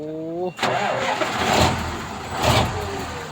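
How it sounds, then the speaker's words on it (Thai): An old Nissan car engine cranks and catches, then runs roughly with a couple of revs, close by; a brief voice is heard just before it starts. "ฟังเสียงเครื่องใช่ไหม"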